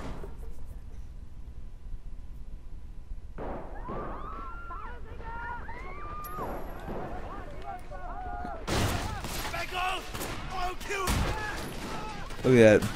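Powerful guns fire in the video game Sleeping Dogs, sharp gunshot bursts with loud impacts in the latter half, following quieter game effects with tonal sweeps; someone talks over parts of it.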